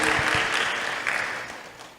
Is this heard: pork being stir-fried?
no